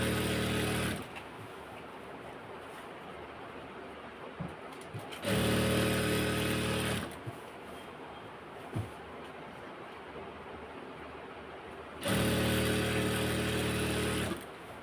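An electric sewing machine stitches a petticoat, running in three loud, even bursts of whirring with quieter handling sounds and small clicks in the gaps between them.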